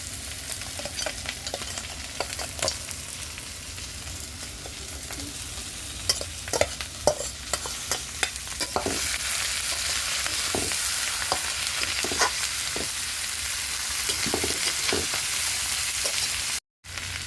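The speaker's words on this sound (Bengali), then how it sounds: "এখন কষানো মশলার ভিতরে কাঁকড়াগুলো দিয়ে হালকা একটু ভেজে নেব।" Crabs fry in a cooked spice paste, giving a steady soft sizzle that grows louder and denser partway through, with occasional scrapes and clicks of stirring, close up.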